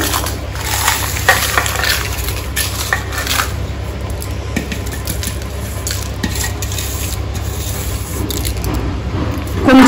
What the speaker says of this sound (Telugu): సాల్ట్ వేసాను, మిక్సీకి పెట్టేస్తాను.